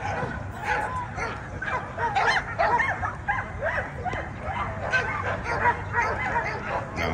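Pitbulls at an outdoor dog show and pig picking bark, yip and whimper in a steady busy stream, with people talking in the background throughout.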